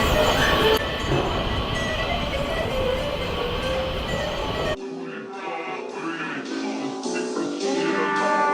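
A Washington DC metro train at a station gives a loud, steady rumble of rolling wheels and carriage noise, then cuts to a quieter, ringing interior hum with softer rail sounds.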